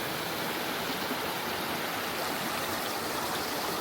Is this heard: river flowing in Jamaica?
yes